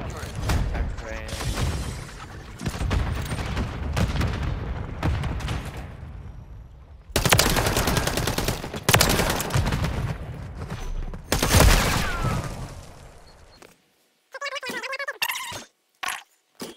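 Gunfire in Modern Warfare 3, hardcore Search and Destroy mode, heard as loud, dense bursts of shots and booms that pause several times, with players talking over the action.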